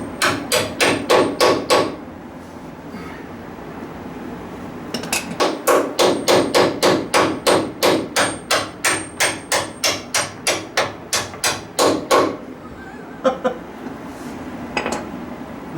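Hammer blows driving track bar bushings into a Ford F-150 truck, sharp metallic strikes in rapid rhythmic bursts with short pauses between runs, loud and close.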